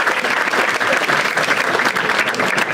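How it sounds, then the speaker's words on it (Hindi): A stand-up comedy audience claps steadily for a few seconds, dense and close, with no voices over the applause. "एक बार आवेश के लिए ताली बजा सब।"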